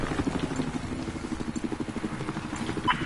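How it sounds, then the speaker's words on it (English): A helicopter passes overhead in the Battlefield 4 video game, its rotor producing a steady, rapid thumping pulse that stays at an even, moderate level throughout with no speech. "There goes the helicopter."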